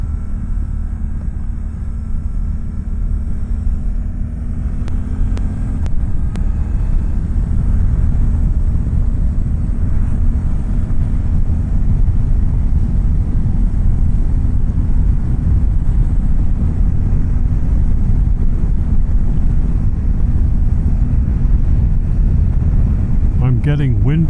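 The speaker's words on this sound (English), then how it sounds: "I'm getting wind flow up and around the top of my helmet above the visor." Steady, loud wind roar with low rumble while riding a 2024 Suzuki V-Strom 800 motorcycle, air buffeting around the top of a helmet above the visor, continuous throughout with engine drone underneath.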